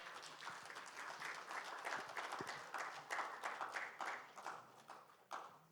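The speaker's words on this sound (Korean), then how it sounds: "우리 강우일 주교님 큰 박수로 모시겠습니다." A room full of people at a founding ceremony in Korea applauds to welcome a bishop, with steady, dense clapping throughout the roughly six seconds that swells in waves and stays fairly soft and distant.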